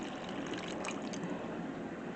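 Bottled water trickles and pours into a bowl of steak marinade, a soft, continuous liquid stream at close range with faint splashing and no talk.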